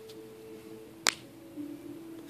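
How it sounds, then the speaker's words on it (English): A single sharp finger snap rings out close and crisp midway through a magic trick, set against a quiet room hum with no talking. "Snap your fingers."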